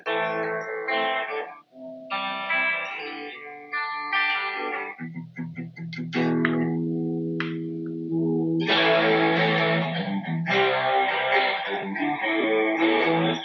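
An Enya Nova Go Sonic electric guitar plays a song, starting with clean picked notes soaked in chorus and echo, then moving into sustained, thicker distorted chords, loud and up close with no talking.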